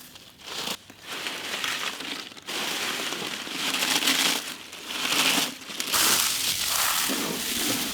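Lays potato chips are crushed by hand in crunchy, crinkling bursts, loud and close, with brief pauses between several rounds of crumbling.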